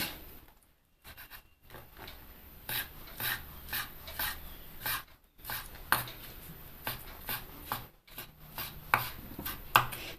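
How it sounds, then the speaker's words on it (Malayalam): A knife chops tomatoes into small pieces on a board for a Kerala-style brinjal masala fry, giving a run of close, uneven, crisp cuts and scraping strokes with short pauses between bursts. "ഇനി നമുക്ക് ഈ തക്കാളിപ്പഴം ഒന്ന് ചെറുതായിട്ട് അരിഞ്ഞ് വെക്കാം."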